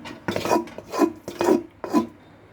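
Vegetables for a veg biryani tipped into a metal cooking pot in four distinct bursts of clattering, scraping spoon and pot contact, close by with no talk.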